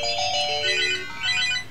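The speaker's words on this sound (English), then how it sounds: "The phone is ringing." A telephone rings with a bright, repeating electronic tone pattern in two bursts, steady and fairly loud, with no voices over it.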